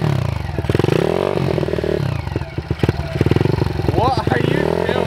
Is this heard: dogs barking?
no